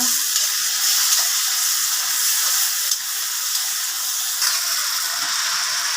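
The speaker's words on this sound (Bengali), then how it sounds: "আধা চা চামচ মরিচ কষানো হচ্ছে" Half a teaspoon of chili powder fries in hot oil in a pan for a bitter gourd and shrimp dish, making a loud, steady hissing sizzle throughout with a few faint stirring bumps.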